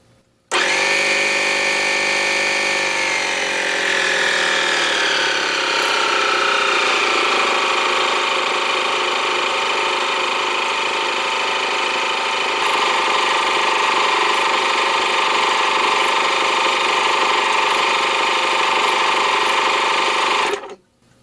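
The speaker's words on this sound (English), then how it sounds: "This, I know, has a brushed motor in it because you can hear how loud it is." An air compressor with a loud brushed universal motor runs as a steady, whining drone that slides down in pitch over the first few seconds, holds for a long stretch, then cuts off abruptly.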